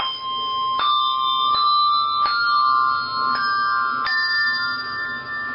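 Three handbells of different sizes held four-in-hand, heaviest, middle and smallest, struck in a slow even sequence of about six clear rings whose bright tones overlap and sustain, with no talking.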